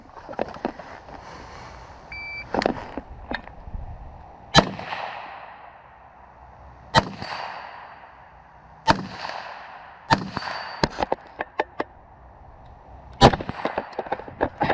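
Single gunshots crack out at a shooting range, spaced irregularly with short clusters of quicker shots between pauses, loud and sharp, each followed by a brief echoing tail.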